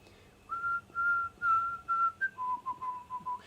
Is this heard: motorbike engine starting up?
no